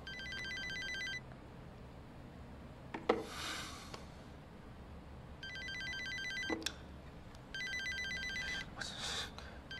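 A mobile phone rings in an indoor drama scene, its electronic ringtone sounding in three separate bursts with brief thumps and rustles between them, fairly close and without speech.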